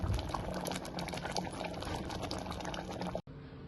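A pot of white pumpkin sambar bubbles steadily at a full boil, a dense, continuous simmering burble that cuts off abruptly at the end.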